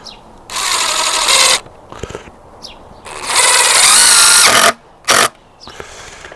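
Power drill driving screws into a wooden fish tank stand: several separate whirring bursts, each a second or so long, separated by short pauses and small knocks, close and loud.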